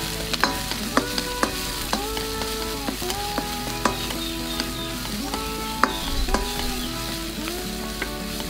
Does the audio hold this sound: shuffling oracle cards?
no